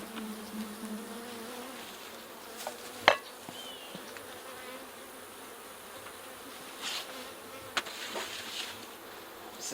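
Honeybees buzz around an open beehive during hive work and requeening, a steady faint droning hum with individual bees whining past close by now and then, plus a couple of sharp equipment clicks.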